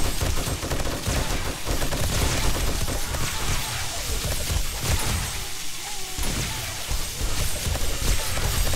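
Dense, continuous bursts of rapid gunfire during a horde night in the video game 7 Days to Die, loud and sustained throughout with layered shots and impacts.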